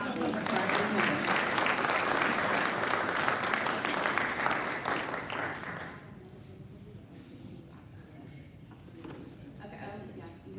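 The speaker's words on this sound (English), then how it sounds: "now clap loudly for our new member" Rotary club members clap for a new member at a meeting, dense applause that holds for about six seconds and then fades to a low murmur of room noise.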